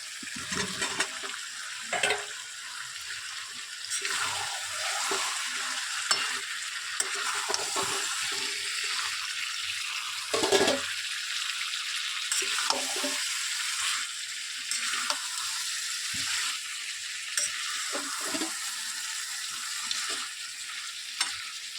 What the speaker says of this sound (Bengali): আমি এবার নতুন আলু দেবো, শক্ত তো দিয়ে আগে থাকতে আবার একটু কষাবো